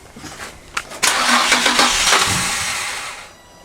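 A Nissan 350Z with newly replaced fuel injectors cranks with a few uneven starter bursts, then fires and settles into a loud, steady idle up close, fading slightly toward the end.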